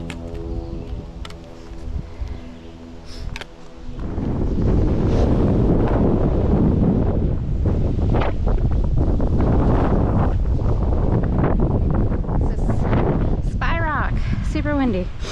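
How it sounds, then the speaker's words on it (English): Strong wind roars and buffets the microphone in a steady, heavy rush that grows louder after the first few seconds, with faint birdlike chirps near the end, by a river on the Appalachian Trail. "Super windy."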